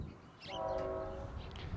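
The CN L571 freight train sounds a short, faint horn blast over a low rumble of rolling cars in the distance.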